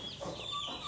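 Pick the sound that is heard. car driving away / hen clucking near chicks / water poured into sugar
hen clucking near chicks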